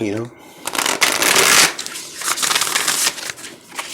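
Tarot cards riffle and shuffle in quick rustling bursts close up, with a brief snap at the start and a continuous papery flutter.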